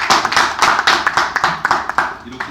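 A crowd applauds steadily for a couple of seconds, a dense patter of many hands clapping close by.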